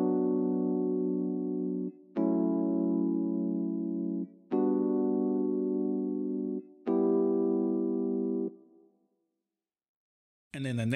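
Sustained chord stabs from a synth or keys part with Silver Verb reverb in Logic Pro X for a modern emotional afrobeats track, four long held chords with short gaps, the last fading into a reverb tail.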